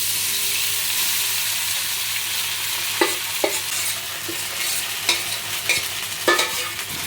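Sabudana (tapioca pearls) stirred and roasted over a medium flame in a pan with other ingredients, giving a steady sizzle broken by several sharp scraping clicks of the spoon against the pan.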